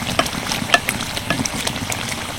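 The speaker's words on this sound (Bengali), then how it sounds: "আরও একটা তেলের মধ্যে ছাড়ছি। ঠিক একইভাবে ভেজে নেব।" Dhakai paratha fries in hot oil in a pan, giving a soft continuous sizzle with light crackles and a few scraping stirs, close and fairly quiet, with no talk.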